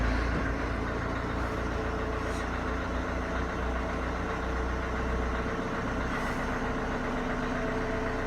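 Vauxhall Astra engine idling steadily, a continuous low mechanical rumble with even tone throughout, fairly close and with no talking over it.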